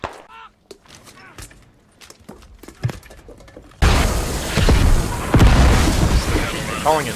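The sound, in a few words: frag grenade explosions in the video game Squad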